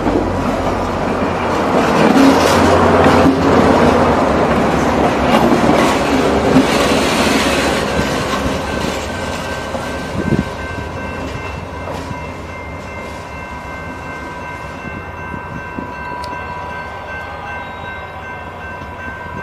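New Mexico Rail Runner commuter train on the line to Santa Fe rolls in loudly with rumbling wheels and clicking rail joints, then slows and fades to a quieter idling hum with a brief screech.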